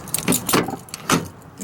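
A GM key sliding into the door lock cylinder of a Chevy S10, heard as a few close metallic jingles and clicks within a couple of seconds.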